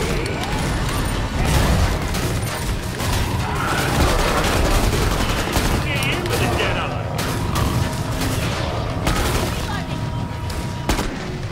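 Constant loud gunfire in Killing Floor 2, with rapid shots and mechanical weapon clatter over a dense combat din.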